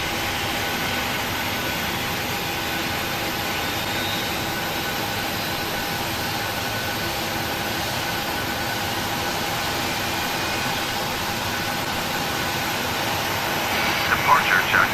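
Simulated Boeing 737-500 jet engine spooling up in a PMDG flight simulator: a steady broadband roar and whine holding constant throughout, with a few faint clicks near the end.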